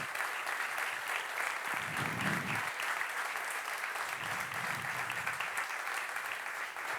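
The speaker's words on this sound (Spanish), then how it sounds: "Un aplauso, por favor, para Manuel Rico." An audience at an award ceremony applauds steadily for several seconds, a dense even wash of clapping heard from within the hall.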